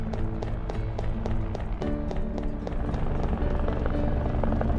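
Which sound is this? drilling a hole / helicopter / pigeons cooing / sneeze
helicopter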